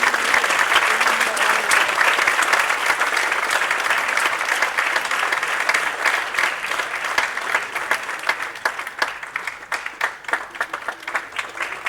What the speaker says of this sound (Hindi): जोरदार तालियां उनके लिए हो जाए प्लीज